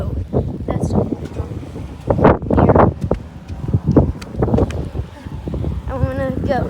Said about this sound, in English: At least the wind's blowing this way.